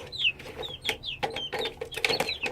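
A six-week-old Shamo chick clucks and peeps over and over, with short chirps and rising squeaky calls mixed with soft clucks in an uneven rhythm, close and moderately loud, with no talking.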